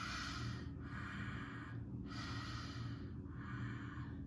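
Soft ujjayi-style yoga breathing, a gentle 'ha' rasp in the back of the throat, heard close and steady as three long airy breaths with short pauses between them.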